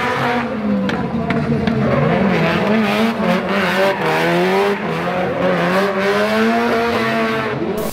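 Drift car with a Garrett turbo engine, revving hard with a buzzy, rotary-like wail that rises and falls, loud and close, mixed with tire squeal and skidding throughout.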